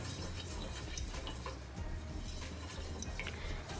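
Cumin seeds frying in two tablespoons of oil in a kadai, a steady close sizzle with scattered tiny pops and crackles running throughout, no voices.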